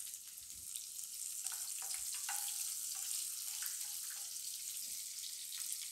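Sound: onions frying in pan

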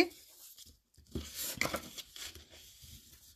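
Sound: creasing the folds of a paper gift box

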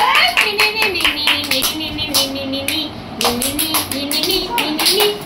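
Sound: people clapping hands

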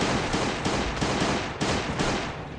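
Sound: gunshots at zombies in video game Last Day On Earth

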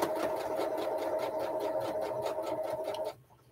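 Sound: sewing machine running

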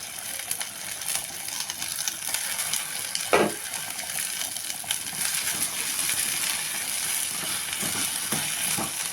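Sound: stirring okra frying in a pan

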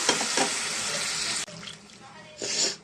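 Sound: a glass of water poured into curry masala in a pan

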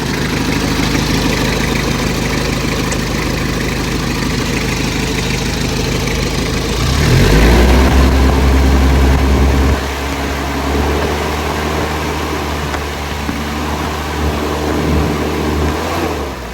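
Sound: used car engine starting and idling

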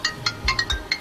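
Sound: phone ringtone ringing

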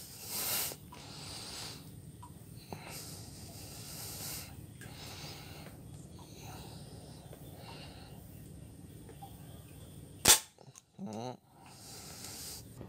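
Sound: mini zinc wire slingshot shooting through beer can

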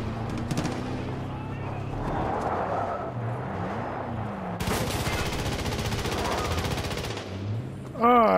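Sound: gunfire in the video game Far Cry 5

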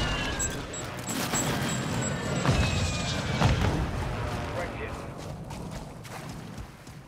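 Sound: airstrike explosions in Call of Duty Warzone 2 video game

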